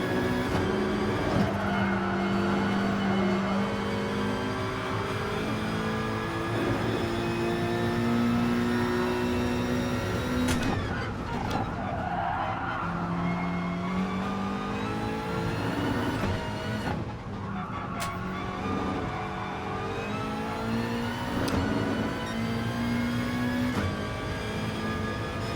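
Porsche race car engine in Gran Turismo Sport, a steady loud harmonic drone with pitch rising and falling through gear shifts, continuous for the whole stretch with no talking.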